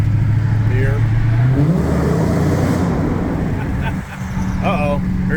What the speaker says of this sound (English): Get some tunnel noise for you here.